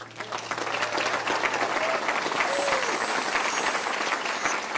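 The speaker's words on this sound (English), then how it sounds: "we should really give her a round of applause" Sustained audience applause at a Constitution Week essay award event, steady and full throughout, with a few faint voices and a whistle-like tone over the clapping.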